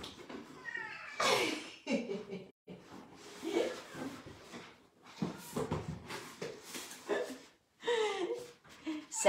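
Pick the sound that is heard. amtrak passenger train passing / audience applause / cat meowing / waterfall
cat meowing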